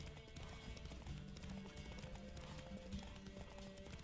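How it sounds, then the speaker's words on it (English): Horse hooves clip-clop in a quick galloping rhythm in The Witcher 3 video game, faint and steady beneath game ambience. "We do a whole lap without running out of stamina, Roach."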